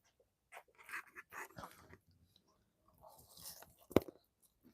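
A dog snaps up a treat in midair, followed by soft crunching and chewing sounds close by, with a sharp click near the end; quiet overall.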